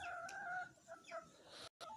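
Backyard chickens and roosters cluck and call in a small flock, with a sustained crowing-like call up front followed by scattered nearby clucks, fairly close and clear with no talking.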